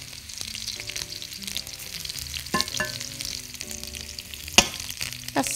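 Mushrooms frying in olive oil in a pan, a steady crackling sizzle with clinks and scrapes of utensils, no talking.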